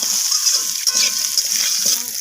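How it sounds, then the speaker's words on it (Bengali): Potato and cucumber pieces frying in a pan for a fish curry, a steady close hiss of sizzling oil with light stirring movement underneath. "তো আলু আর শসা দুটোকেই নাড়াচাড়া করে আমি ভেজে নিচ্ছি।"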